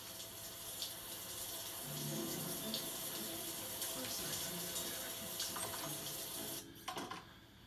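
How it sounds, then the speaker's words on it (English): Water runs steadily from a shower tap in the South Park video game, a continuous hiss and splash that stays constant for several seconds before cutting off near the end. "Let the water run."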